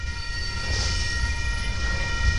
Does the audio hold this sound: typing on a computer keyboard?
no